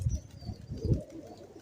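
A heavy teddy pigeon, kept for twelve years, gives several low, throaty coos close by in quick pulsing bursts that fade toward the end.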